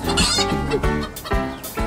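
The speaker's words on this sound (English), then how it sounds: "Listen to the sound they're making. It's like a little cluck, cluck, cluck, cluck, isn't it?" Chickens on an egg farm cluck and squawk loudly and continuously nearby, several birds calling over one another in short overlapping bursts.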